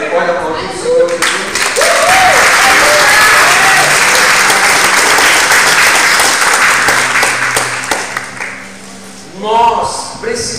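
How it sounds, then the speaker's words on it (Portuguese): A church congregation breaks into loud, sustained applause that fills most of the stretch, fading near the end before a brief swell, with voices and a speaker heard through it. "Você pode aplaudir o Senhor Jesus?"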